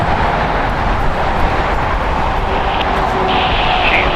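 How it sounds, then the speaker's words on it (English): A ten-year-old Airbus A380 arriving from Seoul passes over the north side of LAX, a steady, loud, broadband jet roar that holds evenly throughout with no voices. "going to be our first A380 right over here on the north side of LAX"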